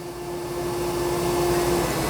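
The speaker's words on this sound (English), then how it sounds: "So it went into a vacuum only event." A Dyson Spot+Scrub robot vacuum cleaner runs in vacuum-only mode, giving a steady, close motor whine with a sustained tonal hum over broadband suction noise throughout.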